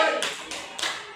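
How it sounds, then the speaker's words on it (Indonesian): A classroom group clapping a rhythmic 'tepuk cihuy' cheer, three distinct bursts of hand claps at even intervals, moderately close. "Beri tepuk cihuy untuk kelompok 2."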